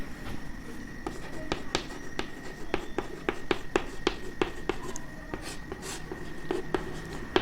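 Chalk writing a Pythagoras theorem formula on a classroom board, a string of sharp taps and short scratches in an uneven rhythm, close and clear over a faint room hum.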